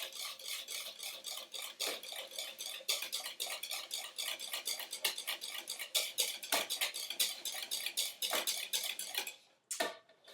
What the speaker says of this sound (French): Il faut bien mélanger en faisant attention de ne pas casser les blancs.